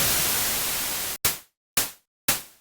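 A synthesized open hi-hat built from white noise run through a bandpass filter: a long steady hiss, then three short bursts that each cut in sharply and fade fast, evenly spaced and alone.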